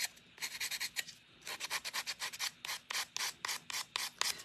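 Sandpaper rubs back and forth in short, quick rasping strokes, close up and fairly faint, with brief pauses between bursts.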